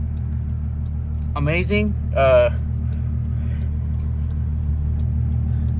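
A VW Jetta VR6 with a straight-pipe exhaust idles at a steady low rumble, close and constant, while a person briefly speaks over it.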